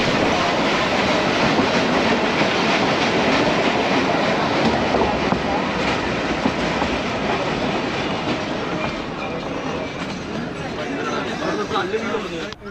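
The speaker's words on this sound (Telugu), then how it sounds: "ఈ టాయ్ ట్రైన్లో మనం వెళ్ళేటప్పుడు" Steady rumble and rhythmic clatter of the Ooty toy train rolling along the Mettupalayam to Ooty mountain railway, loud and close throughout, with voices murmuring faintly underneath.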